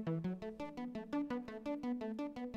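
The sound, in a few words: layered gritty distorted synth sounds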